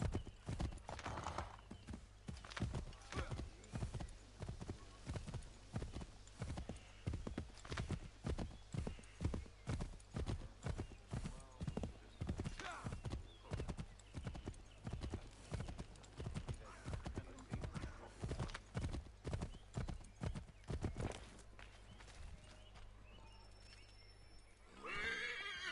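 Spurred horse galloping with rapid, steady hoofbeats and a neigh near the end, from the video game Assassin's Creed 3, loud and close throughout.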